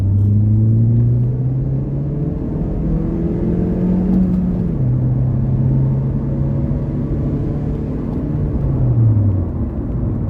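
A 2008 Honda Civic LX drives along a road, its engine humming steadily with a rising and falling pitch under a continuous low rumble of road noise, close and fairly loud, with no talking.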